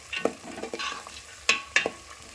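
Onions and green chillies frying to golden in a pan, a low sizzle broken by several sharp scraping strokes of a spatula stirring them, close up with no voices.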